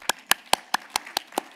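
Rhythmic clapping at a women political leaders' global summit, seven sharp, evenly spaced claps in quick succession, close and distinct with little else around them.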